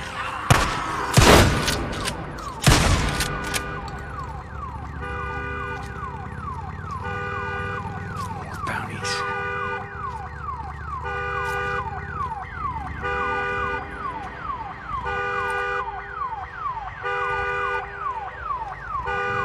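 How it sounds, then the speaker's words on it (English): An alarm siren wails in the video game Days Gone, a repeating rising electronic tone that sounds steadily and loudly, preceded by a few sharp bangs near the start. "Damn alarm."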